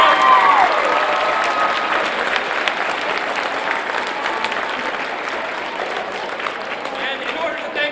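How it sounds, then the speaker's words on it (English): An audience at a leadership talk bursts into loud, dense applause that starts strong and slowly tapers but keeps going, with a brief electronic tone near the start. "Give these guys a round of applause and thank you for coming out."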